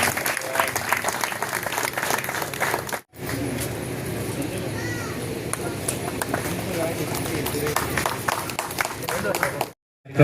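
Audience at a sports club event in Mandwa applauding steadily and loudly for about ten seconds, with brief gaps, dense clapping and some crowd noise over a voice speaking.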